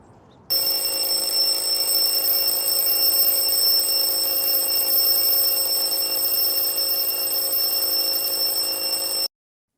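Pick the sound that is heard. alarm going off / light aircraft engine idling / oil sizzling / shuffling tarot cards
alarm going off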